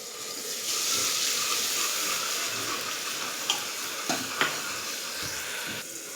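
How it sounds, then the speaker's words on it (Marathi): Ground spice masala fries in oil inside a hot pressure cooker with a steady, moderately quiet sizzle, broken near the end by a few sharp clinks of a spoon stirring against the metal. "इकडे आपला मसाला असा भाजत आहे"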